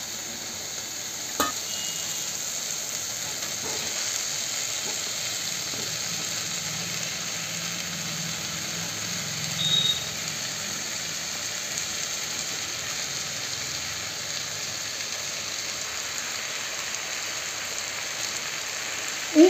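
Vegetables and a fish head fry in a covered pan, giving a steady, soft sizzling hiss throughout, with a couple of faint knocks along the way.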